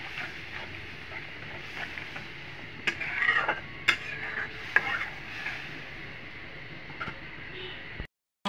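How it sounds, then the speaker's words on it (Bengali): A spice paste of chili powder, turmeric and salt is stirred and fried in a pan, giving a steady sizzle with intermittent scraping and clanks of the spoon against the metal, fairly close. "এখন আমি মশলাটাকে ভালো করে কষিয়ে নেব"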